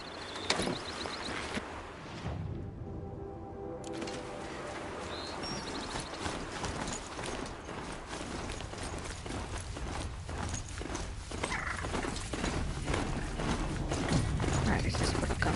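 Strider mount galloping in Horizon Zero Dawn, quick rhythmic mechanical hoofbeats with clanking gear sounds, moderately loud, running under a voice speaking.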